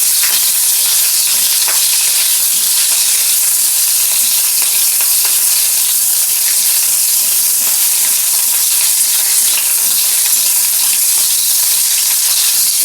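Cauliflower florets frying lightly in oil in a village kitchen, with dal cooking nearby. A loud, continuous close-up sizzle and hiss holds steady with faint stirring scrapes and no voices.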